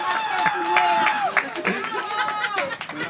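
Audience applause and clapping at a Peruvian comedy show, a short burst of crowd noise and scattered claps mixed with loud voices talking and shouting over it.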